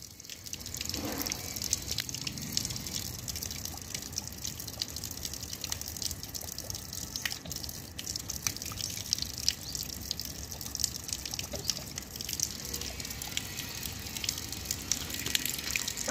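A baby girl bathes and plays in water, giving a steady, continuous wash of running and splashing water with small drips throughout, fairly close and with no talking.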